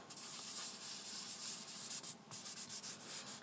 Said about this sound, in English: And then I just dab the spots on there and then immediately rub it in.